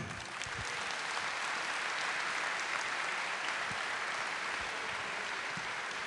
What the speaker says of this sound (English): Give a round of applause to Leonard and Brian.